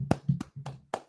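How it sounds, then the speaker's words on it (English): One person claps hands in applause, giving about four or five sharp, close claps at an uneven pace with short gaps between them, heard alone with no talk. "I applaud you."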